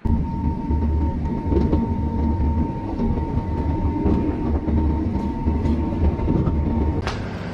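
A passenger train rumbles steadily nearby as it arrives, a low continuous roar with a faint steady whine and occasional rattles.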